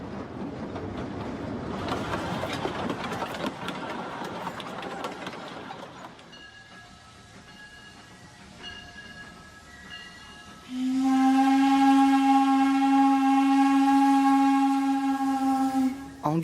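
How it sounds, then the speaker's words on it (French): A steam train crossing a bridge about a hundred metres long near Tiradentes, Brazil, rumbling and clattering at first, then a long, loud, sustained whistle blast. "À environ 2 km de Tiradentes, le train traverse un pont d'une centaine de mètres,"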